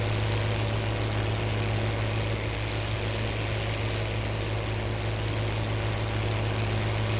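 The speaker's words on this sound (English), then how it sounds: "This tractor doesn't seem to be powerful enough, though, for this planter." A farm tractor pulling a planter while seeding sunflowers, its engine holding a steady low droning hum that stays loud and constant throughout with no talk.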